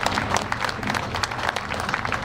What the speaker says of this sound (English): Round of applause for all the cosplayers, please.